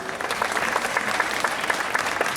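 An audience at a birthday event greets a speaker from UNICEF with steady, fairly loud applause, many hands clapping in a dense, even patter for a couple of seconds.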